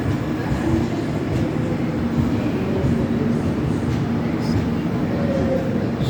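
The Brahmaputra Express stands at a railway station, giving a continuous low rumble of engine and carriages with faint squeals and distant station voices underneath.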